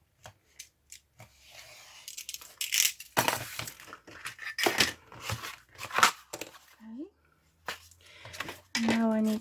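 Scissors cut a paper layer for a fairy journal cover, a few close, dry snips and papery rustles with pauses between them, while a voice speaks briefly near the end.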